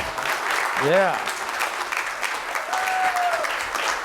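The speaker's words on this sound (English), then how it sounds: "let's give these adults and young men a round of applause for a great job this year." A city council meeting audience applauds, a steady round of clapping lasting a few seconds, with a voice briefly calling out over it.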